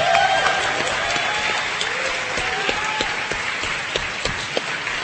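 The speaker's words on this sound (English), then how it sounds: "one more round of applause for the animators here" Convention crowd applauds animators at a BronyCon animation panel, a dense, sustained roar of many hands clapping, loud at first and tapering slightly, with faint crowd noise mixed in.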